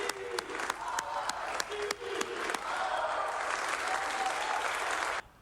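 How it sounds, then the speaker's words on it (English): Washington state lawmakers at the state capitol give the Seahawks a standing ovation, with loud, sustained applause and cheering that swells and holds until an abrupt cutoff, and a few sharp claps at the start. "You hear them cheering there."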